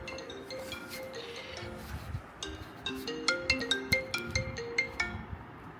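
Phone ringtone for an incoming call, a repeating melodic tone that builds into a bright, regularly pulsing pattern of chiming notes, fairly near and clear over a quiet room.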